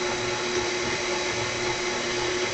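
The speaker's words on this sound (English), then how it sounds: "And I mix it on low for about a minute so it's all integrated." An electric mixer runs on low through dry dough ingredients for from-scratch cinnamon buns, a steady motor whir with a constant hum that holds loud and unbroken from start to finish.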